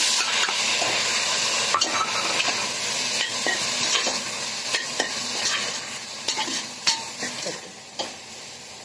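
Tomatoes sautéing with browned onions in a Healux cookware pan for chicken biryani, a continuous close sizzle broken by regular spatula stirs and scrapes against the pan.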